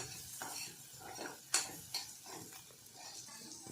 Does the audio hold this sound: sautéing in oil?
yes